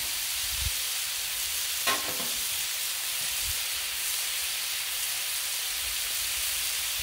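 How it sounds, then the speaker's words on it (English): Bacon sizzles loudly and steadily in a pan as a constant hiss with a faint crackle, and a single brief clatter comes early, with no voices. "Bacon, bacon, bacon. We'll get it going a little bit."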